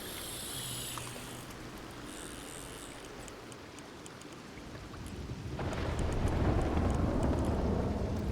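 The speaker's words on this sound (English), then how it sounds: "Holy moly, it is raining." Steady rain in Red Dead Redemption 2 hisses throughout, growing heavier and louder partway through, with a low distant rumble underneath.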